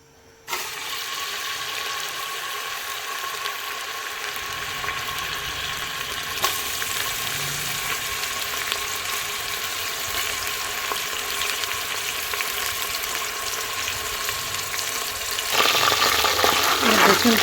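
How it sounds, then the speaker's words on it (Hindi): Chopped onions frying in about half a cup of oil in a pressure cooker make a steady, close sizzle that keeps up throughout and swells louder near the end. "फिर इसमें प्याज डालेंगे हम"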